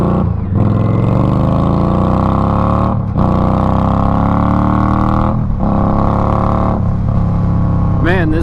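Indian Scout Bobber motorcycle on a ride, its engine droning loud and steady with rising and falling pitch through gear changes, brief dips between shifts.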